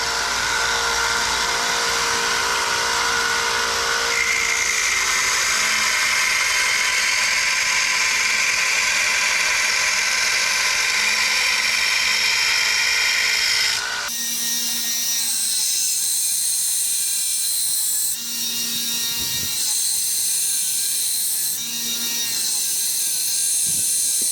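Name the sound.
grinding bevels on a knife blade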